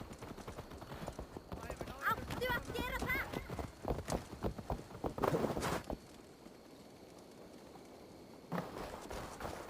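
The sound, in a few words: horse hooves from a video game, Assassin's Creed Valhalla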